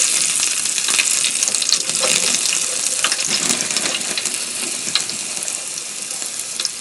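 Crushed garlic fries in ghee in a pan, a steady close sizzle with faint crackles and spits throughout, without any talking.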